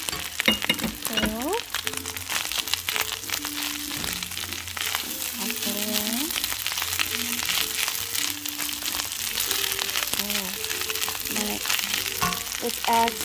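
Onion and rice frying together in a pan for Hawaiian fried rice, a steady crackling sizzle with occasional stirring and utensil scrapes, with a voice speaking intermittently over it.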